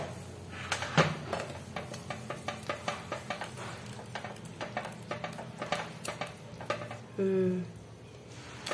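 Dessert batter with young coconut pieces stirred in a pan, with a repeated rhythmic scraping and tapping of the spoon against the metal, fairly close and moderate, ending with a brief clunk.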